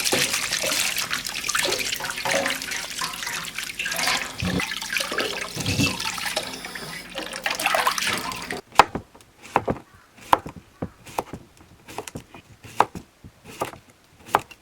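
Cucumbers are washed gently by hand in water, starting with a steady rush of running water and then turning into splashy, irregular sloshes and drips as the hands move them, close and alone.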